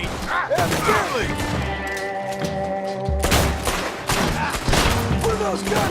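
Gunfire in Red Dead Redemption 2 crackles as repeated bursts of shots and thuds through the whole stretch, dense and fairly close, mixed with game music and occasional voices.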